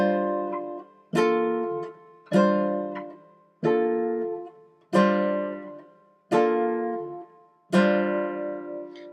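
Seven separate plucked notes ring out from a guitar in a diagonal one-finger-per-string Spyder finger exercise, each struck cleanly and left to decay, evenly spaced and close.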